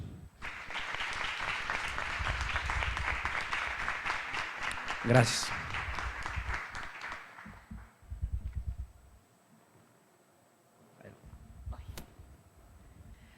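Audience applause at a university book fair presentation, a sustained burst of clapping for about seven seconds that tapers off, followed by someone speaking briefly into a microphone.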